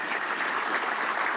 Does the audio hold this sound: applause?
yes